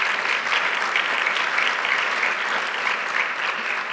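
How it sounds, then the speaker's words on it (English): A banquet audience at a media arts awards dinner gives a steady, continuous round of applause for an honoree. The dense, even clapping fills the room and holds without a break. "Round of applause for her, please."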